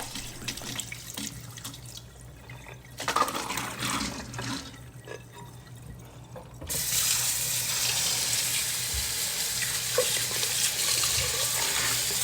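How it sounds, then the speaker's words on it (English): Tap water runs into a sink as soaked beans are rinsed for koose, first a lighter intermittent splashing, then a steady, louder full stream of running water from about the midpoint onward. "I just drained the water and I'm just going to give it about 2 or 3 more rinses"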